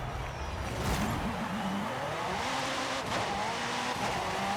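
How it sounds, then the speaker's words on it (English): A stock McLaren Senna driven in Forza Horizon 5, its engine droning steadily with shifting revs and some tire noise, close and continuous without talk. "And we are in a stock McLaren Senna."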